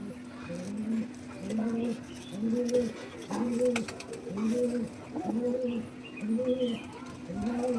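Kaldom and Malbai pigeons coo close by in a steady run of repeated low, rolling calls, about one every half second, with faint speech in the background.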